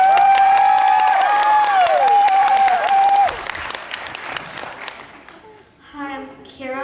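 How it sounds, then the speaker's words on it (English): A concert audience applauds and cheers as a singer named Keira takes the stage, the clapping mixed with a sustained sung or whistled tone for the first few seconds, then thinning out before a voice begins speaking near the end. "Please give her a round of applause."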